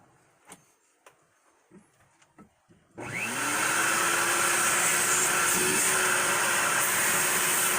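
A few light knocks and clicks, then a repaired Craftsman vacuum cleaner switches on and runs with a loud, steady whooshing roar that rises slightly in pitch.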